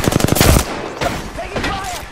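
Gunfire in the Apex Legends video game: a loud, rapid automatic burst of close shots up front, then scattered single shots and shorter bursts, with game voice lines between them.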